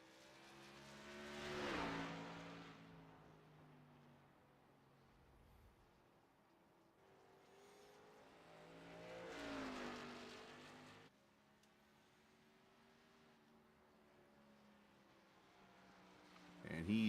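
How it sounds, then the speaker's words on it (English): Race cars run laps at Richmond in a simulated Xfinity Series race, their engines swelling as they pass twice at moderate distance, fading between passes under quiet background sound. "got 2 cars on the track."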